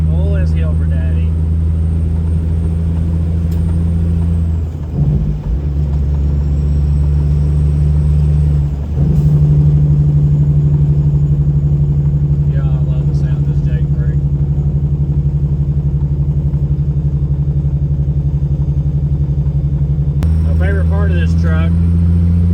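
A Freightliner Argosy cabover truck with a 13-speed transmission labors uphill, its engine droning loud and steady for the whole stretch. Brief dips mark gear changes, and a couple of faint higher squeals come and go.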